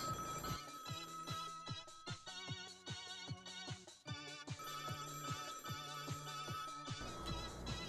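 A phone ringtone plays a repeating electronic melody, its rhythmic tones and pulses continuing steadily throughout without any talk.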